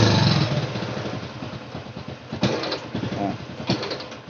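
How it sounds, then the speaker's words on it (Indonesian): Engine of an old Honda Supra motorcycle with a fault that makes it cut out under throttle, running close by in a rough, uneven idle with a few sharp bursts of throttle that blip up and fall away, with no speech. "Tapi saat kita gas, motor ini mati mas."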